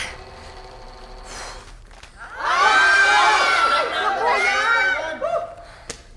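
A crowd of people yelling and cheering when the lights go out, a loud burst of mixed shouts and shrieks that swells after a quieter start and fades with a final sharp cry.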